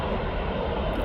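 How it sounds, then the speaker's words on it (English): Jet2 Holidays jet airliner landing at East Midlands Airport, a loud continuous broadband engine roar heard from nearby and steady throughout the brief moment. "Nice landing from that Jet2"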